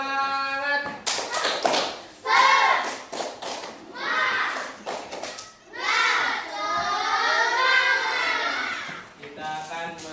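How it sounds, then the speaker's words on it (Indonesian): A school class does a rhythmic spirit clap, a run of sharp hand taps and thuds in short bursts alternating with loud children's voices chanting and calling out. "Oke, tepuk semangat."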